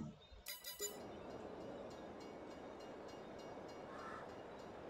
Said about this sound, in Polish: słyszałem, że te rogatki tykali